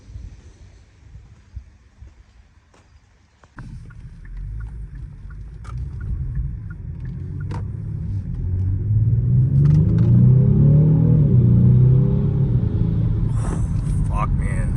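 A new car accelerates on a drive, heard from inside as a low engine rumble that builds steadily in loudness and pitch, rising to a sustained roar toward the end, after a quieter start with faint cabin sounds.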